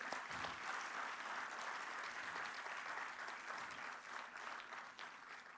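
A crowd at a convocation ceremony applauds steadily, a dense wash of clapping that holds at an even level and tapers slightly toward the end.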